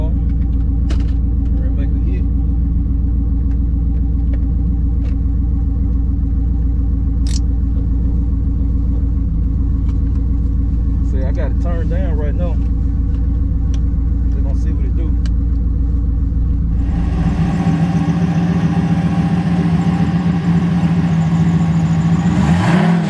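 A turbocharged Camaro drag car idling with a deep, heavy, loping rumble, close and loud, then revving higher near the end; someone talks at times over the engine.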